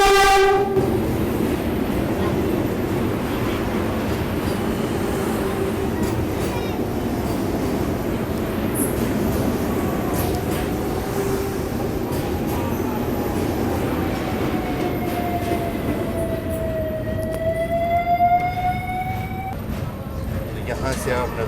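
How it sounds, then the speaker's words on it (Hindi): The Khajuraho Vande Bharat train rumbles steadily past near Banaras and sounds rising horn blasts toward the end, with voices talking underneath. "ये खजुराहो वंदे भारत ही है। ये ट्रेन भी बनारस जंक्शन को स्किप करती है।"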